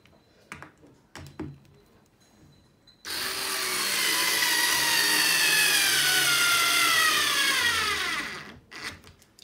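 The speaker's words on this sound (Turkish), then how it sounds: "bu şekilde buraya da vidalayacağım ve diğer ayakları da" Power drill driving a screw into wood, one continuous whirring run of about five seconds with the pitch falling as the screw seats, close and loud, after a few short knocks.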